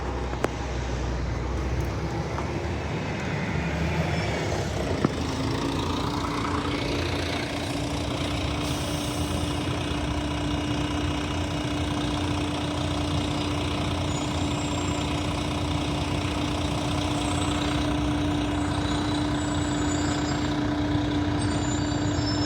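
A Transperth bus idles at a stop in Kalamunda, its engine a steady low rumble with a sustained tonal hum, occasional air-brake hiss and passing traffic around it, no voices heard.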